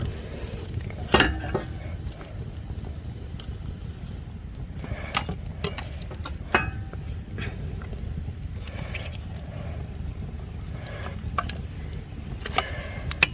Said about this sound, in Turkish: Şöyle közlerden altına koy vereceğim. Közüyle kaynıyor.